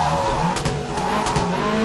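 Rally car sliding under the handbrake through a hairpin in WRC 3 on the Rallye de France Alsace stage, the tyre skid and engine noise steady and close for under two seconds, with no talk.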